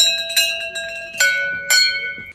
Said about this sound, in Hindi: घंटी कौन बजाएगा